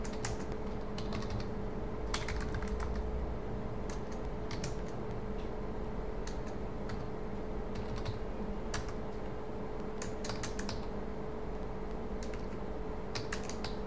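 Keys tapped on a computer keyboard while a message is typed into an AI chatbot on a PrestaShop store, coming in short irregular bursts of light clicks over a steady low hum, with no voices.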